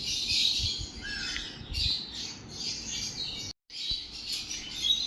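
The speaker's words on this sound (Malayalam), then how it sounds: "രണ്ട് ബ്ലൂ ഫിഷർ ഒപ്പലേനും ഒരു ഗ്രീൻ ഫിഷർ ഒപ്പലേനും അങ്ങനെ ഒരു മൂന്ന് കിളികൾ അടങ്ങുന്ന ഒരു ബാച്ചാണ്" Small flock of Fischer's lovebirds, blue and green opaline, squawking in harsh high bursts, close and busy, with a brief pause before the chatter resumes.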